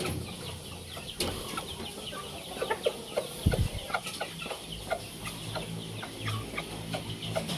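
Shamo chickens, a rooster and a hen, cluck in short repeated bursts near and moderately loud, with scattered scratching and rustling around them.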